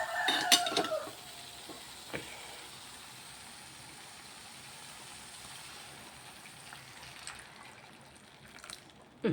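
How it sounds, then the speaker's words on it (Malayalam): A few clinks of a utensil against a pot of Kerala ginger curry, then a quiet stretch of faint bubbling and stirring as water is added, with another knock near the end. "നമ്മുടെ ആവശ്യത്തിനുള്ള വെള്ളം ഒഴിച്ചു കൊടുക്കാം"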